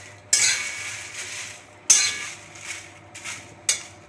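Dry red chillies and whole spices are stirred and roasted in a pan for traditional mango pickle, with four distinct scraping strokes rising over a faint steady sizzle and no voices.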